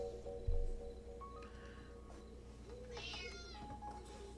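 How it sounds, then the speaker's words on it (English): A cat meows in a cozy video game, a couple of short mewing calls over a steady game soundscape with a low thump near the start. "it must be Nora's cat."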